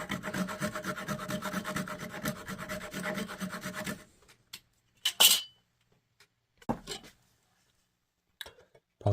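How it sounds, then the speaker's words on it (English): Low kerf saw trimming wooden pegs on a pre-1900 golf club, a close, steady rasping stroke for about four seconds, then stopping, followed by a few scattered knocks and handling sounds. "Let's trim off the pegs. I'm just using a very low kerf saw here."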